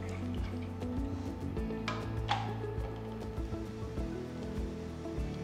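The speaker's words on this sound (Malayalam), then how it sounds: "നന്നായിട്ട് തിളയ്ക്കാൻ തുടങ്ങി." A pot of coconut milk kofta curry coming to a boil, giving a soft, steady bubbling and gentle popping, quiet and continuous with no voices.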